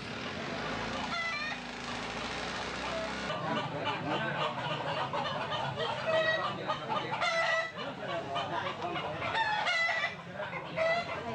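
Roosters cluck, squawk and crow repeatedly at a cockfight in Bali, where metal blades are fixed to one leg of each bird. The calls are fairly close and overlapping, over a busy crowd murmur.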